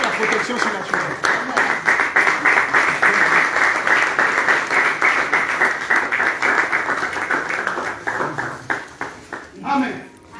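An audience at a prophetic training session applauds steadily for about ten seconds, a dense wash of clapping at moderate distance, with a voice speaking over it near the end.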